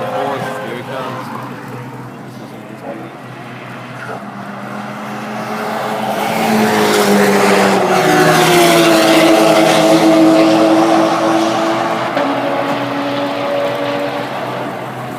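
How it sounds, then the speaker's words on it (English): Turbocharged car engine passing by, rising from a distant rumble to a loud, close roar with a whining turbo pitch sweep, then fading away, heard alone. "You can hear the turbo on that one."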